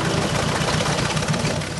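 A cartoon tractor engine chugs steadily, a dense, continuous mechanical rumble with a slightly rhythmic knock, loud and close with no voices over it.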